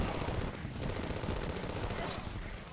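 Rapid, dense firework-like explosions crackle and pop continuously during a Terraria boss fight against Golem, a loud chaotic barrage of game effects that fills the whole stretch.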